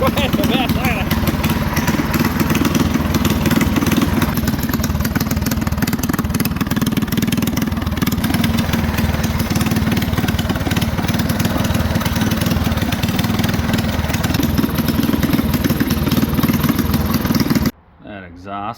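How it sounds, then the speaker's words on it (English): A 1979 Chrysler Sno-Runner snowmobile's small engine idles loudly and unevenly with its idle turned down, a rough continuous chug close by for most of the stretch before suddenly dropping away. "I got the idle turned down a little bit. That's shaking quite a bit."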